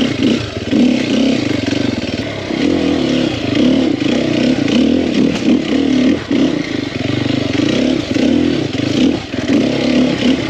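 A nearly new 2021 Sherco 300SEF four-stroke dirt bike is ridden nearby, its engine holding a loud, continuous drone with repeated throttle swells and revs and some clattering, and no speech.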